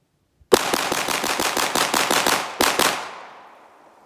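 An STI 2011 DVC Open pistol fires at bowling pin targets on a shooting range: a loud, close string of about a dozen rapid shots, a brief pause, then one final shot whose echo rings out and fades.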